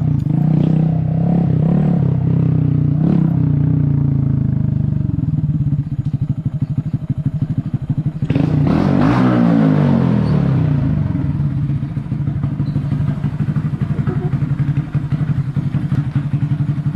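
A Honda Grom motorcycle being ridden, its small engine droning loudly and continuously with rising and falling revs, wind buffeting and a brief surge in pitch partway through.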